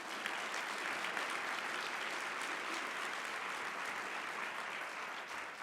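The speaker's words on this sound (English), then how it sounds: "Let's give her a round of applause." A conference audience gives a steady round of applause, dense and even from start to finish, heard from within the hall with no speech.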